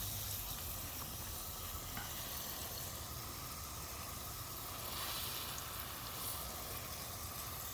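A garden hose or watering can sprays water onto vegetable plants in an enclosed garden setup, a steady, close hiss of running water that holds evenly for the whole stretch with no talking.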